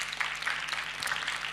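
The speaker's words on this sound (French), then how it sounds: "Je pense qu'on peut les applaudir aussi." Faint, scattered clapping from the audience at a plenary session of a wetlands seminar, soft and distant, with sharp individual claps over a low room hum.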